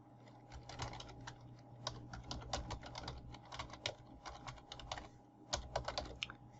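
Typing on a computer keyboard while entering a domain name, with steady quick key clicks running throughout, close and fairly quiet, no voices.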